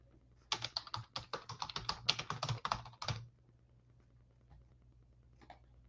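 Fast, uneven clatter of keys on a computer keyboard, about two and a half seconds of typing close to the mic before it stops into quiet room hum.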